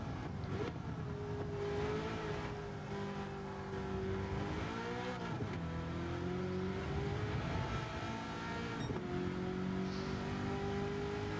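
A Camaro ZL1 1LE race car in Gran Turismo 7 holds a sustained engine drone that rises and falls in pitch with gear changes, loud and continuous, with no voices.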